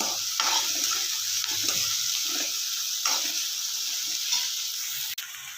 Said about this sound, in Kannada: ಈರುಳ್ಳಿ ಮೆತ್ತಗಾಗೋವರೆಗೆ ಹುರ್ಕೊಳ್ಳೋಣ